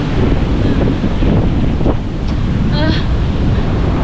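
Sea waves wash near a beach house, a loud, constant surf roar heavily buffeted by wind on the microphone, with faint voices underneath.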